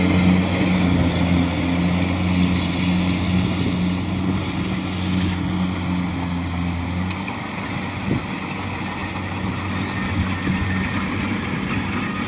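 Kubota DC70 combine harvester works through tall, ripe golden rice, its engine droning steadily and loudly up close with a low rumble and a constant mechanical whir throughout.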